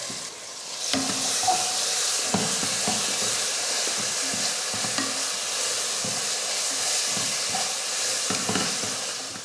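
Tomato and ginger garlic paste fry in a pan for a biryani, giving a constant loud sizzle with repeated scraping knocks of a spoon stirring through it, close and steady with no voices.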